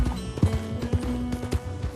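Hooves of a horse clip-clopping at a run in Red Dead Redemption 2, a few uneven thuds over two seconds set against a steady game soundtrack hum.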